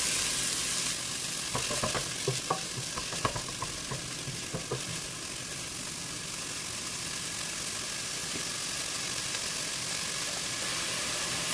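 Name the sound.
onions sautéing in a pan until transparent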